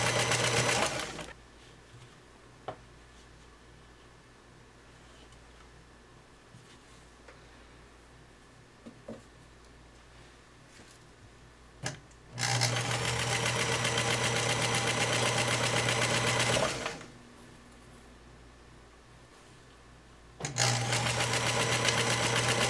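A sewing machine stitches quilt pieces together in two long runs, each a steady loud motor whir with a low hum, separated by quieter handling sounds and near silence.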